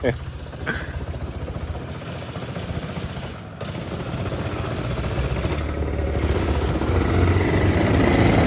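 A small Yamaha engine in a racing kart fires up after a push start and settles into a busy, buzzing putter that grows gradually louder.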